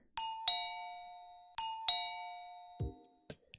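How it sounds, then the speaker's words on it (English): Two-tone ding-dong doorbell chime in the video game Heart Cage, rung twice in quick succession, a pause, then twice again, clear and close, followed by a few soft thuds. "She looked anxious and kept ringing the doorbell"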